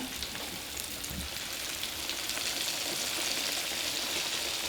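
Steady crackling sizzle of catfish frying in hot oil, continuous and close, with soft popping throughout.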